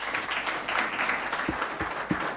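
Modest clapping from a school audience for a poetry runner-up at a debate academies event, a faint, patchy patter with a few distinct hand claps standing out.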